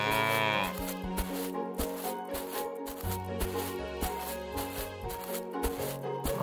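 A cow moos in an animal simulator video game, a long harmonic call up front, followed by steady game music and rhythmic effects with no talking.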